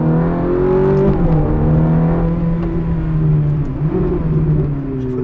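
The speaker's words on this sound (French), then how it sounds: "Ah là, t'as freiné, t'as rétrogradé trop vite." A Ferrari engine rumbles loudly from close by, its pitch stepping down and rising again as it brakes and downshifts, with a steady whir underneath.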